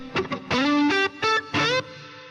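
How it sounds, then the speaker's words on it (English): Short electric guitar phrases, a few picked notes and sustained bends, each ringing out with a spacious reverberant tail from the iZotope Aurora reverb plugin that fades into quiet. "The full reverb sound, the full character of the reverb with the original signal"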